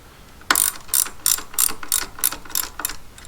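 A hand ratchet snugs down a motorcycle handlebar clamp in about eight quick, evenly spaced clicking strokes, close and clear with no talking.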